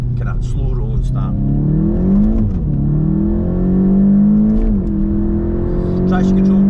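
VW Mk7.5 Golf GTI TCR with a manual gearbox in sport mode, accelerating from a slow rolling start: engine note climbs steadily in pitch, drops briefly at a gear change, then rises again, heard from inside the car.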